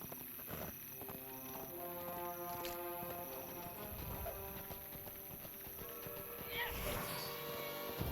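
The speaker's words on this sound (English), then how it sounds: "Let me get on the war steed." A war steed's hooves clip-clop in the online game The Lord of the Rings Online, a steady, even gait of hoofbeats over continuous in-game ambience and music.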